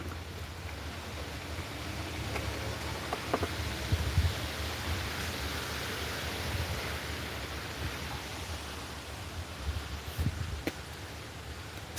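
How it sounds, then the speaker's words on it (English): Wind blowing outdoors on a breezy day, a steady broadband rush with occasional louder gusts and faint rustling, no voices. "Excuse the wind in the background if you guys hear the wind blowing."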